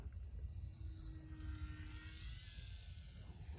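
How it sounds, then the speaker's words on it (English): A remote control glider converted to electric power cruises overhead at about half throttle, with a steady motor whine and a faint high tone that swell slightly as it passes. "Real smooth flying airplane."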